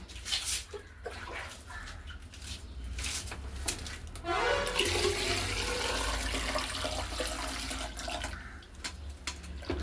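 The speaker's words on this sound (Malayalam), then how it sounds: "ഇനി നമുക്ക് കുറച്ച് വെള്ളം കൂടി ഒഴിച്ചിട്ട് ഇതിനെ ഒന്ന് ലൂസാക്കാം" Water poured into a jeevamrutham mixture, a natural farm fertiliser brew, starts as a sudden steady rushing gush midway and keeps splashing and churning loudly to the end, with some faint background noise before it.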